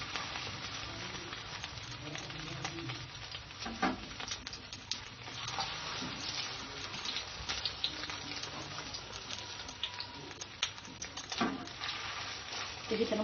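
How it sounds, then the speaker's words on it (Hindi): Egg-dipped cutlets fry in a pan with a soft, steady sizzle and light patter, punctuated by occasional sharper pops and clicks, fairly quiet and close, without speech. "एक एक कटलेट्स को आप ऐसे अंडे में डिप कीजिए और इसको फ्राई कर लीजिए।"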